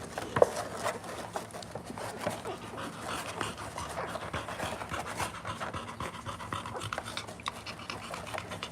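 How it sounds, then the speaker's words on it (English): A hyper puppy pants quickly and steadily up close, a continuous rhythmic huffing with small whimpers and pattering movement around it, and no talking. "Hyper dog."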